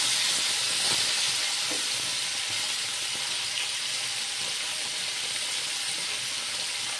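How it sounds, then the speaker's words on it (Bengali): Fish fry in a wok, turned over now and then, giving a constant close hissing sizzle with a few soft knocks from flipping, and no one speaking. "সবগুলো মাছ আমি উল্টে পাল্টে ভেজে নেব।"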